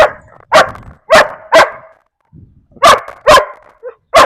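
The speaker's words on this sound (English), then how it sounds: "Lots of barking." A dog barks loudly and close, six or seven sharp barks in two bursts separated by a short pause, with a brief whimper between.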